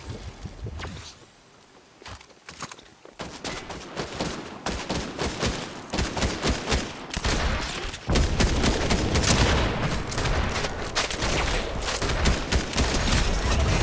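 Assault rifle fire in Fortnite Reload, a Ranger assault rifle: dense, loud, close bursts of rapid shots with brief gaps, building to near-continuous firing in the second half, with some footsteps mixed in.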